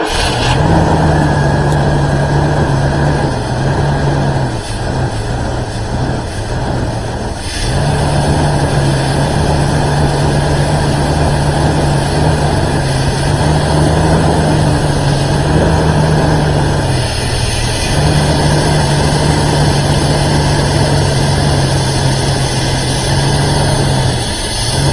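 A 1994 Chevrolet S-10 pickup, parked for 16 years with 124,000 miles, runs steadily at a loud, close idle with a continuous low hum and brief dips in engine note.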